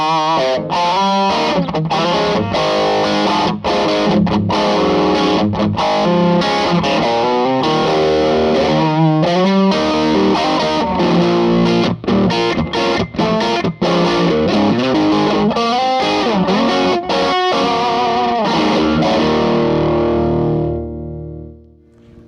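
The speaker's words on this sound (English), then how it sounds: "usually with 6L6s, you don't expect a very musical friendly distortion like that" Heavily distorted electric guitar chugs and rings through a 65 Amps tube amp with 6L6 tubes, dense and loud throughout, then fades out at the end.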